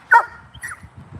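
A dog named Apollo lets out a short, loud yip-like bark, followed a moment later by a second, softer one, with low rumbling noise underneath.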